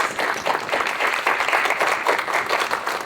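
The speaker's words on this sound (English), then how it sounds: "So let's give them all a round of applause." Audience applause for a panel of speakers at a business summit, steady dense clapping from a crowd filling the whole stretch at even loudness, with no voices over it.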